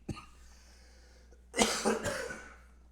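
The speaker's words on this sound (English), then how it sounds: "That's why I'm coughing over here." A man at a computer coughs twice in a quick burst, close to the microphone, after a short quiet stretch.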